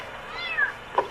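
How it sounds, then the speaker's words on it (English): A kitten trapped inside a car engine gives two short, thin meows, the second one sharper, heard close and fairly clear. "There's a cat or something in my engine."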